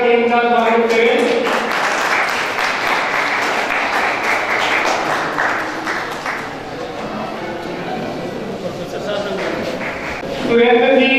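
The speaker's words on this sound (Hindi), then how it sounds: "जोरदार तालियां बजाकर इनका स्वागत करें।" An audience at a community society function in Fatehpur gives hearty applause to welcome a guest. A dense, sustained round of clapping lasts most of the span, and a voice speaks briefly before and after it.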